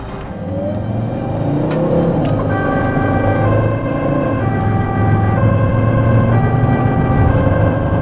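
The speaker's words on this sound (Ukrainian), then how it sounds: "тоді вмикаємо сирену" An ambulance siren switches on over a running vehicle engine, its wailing two-tone pattern rising and repeating steadily, loud and close for several seconds with no talk.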